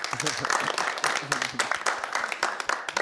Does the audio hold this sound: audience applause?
yes